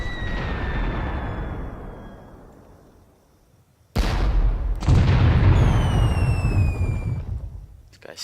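Mortar rounds explode in the Graviteam Tactics: Mius Front war game: a heavy rumbling blast fades out, then two sharp, loud booms land close together and roll on with long, low rumble, whistling tones overhead.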